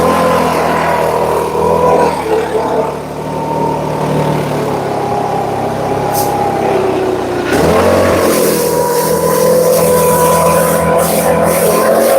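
A lawn mower engine runs outdoors in the country, a loud, steady droning roar whose pitch dips and shifts midway before settling again, with wind noise around it.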